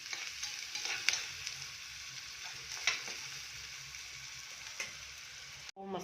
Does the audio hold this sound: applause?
no